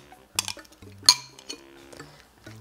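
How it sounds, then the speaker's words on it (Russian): A spoon clinks and scrapes against a bowl while salad dressing is stirred, several light ringing taps at uneven intervals, close and fairly quiet. "Все, перемешиваю заправку."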